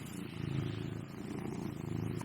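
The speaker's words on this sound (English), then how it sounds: "Cat wants to sit in front of me and purr." A house cat purrs close up in a steady, rumbling cycle that swells and eases with each breath, continuous and alone.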